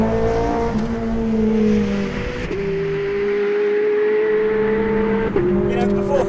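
A Ferrari 430 Scuderia drives on a race circuit with a loud, steady engine drone that drops sharply twice at gear changes, while someone talks over it.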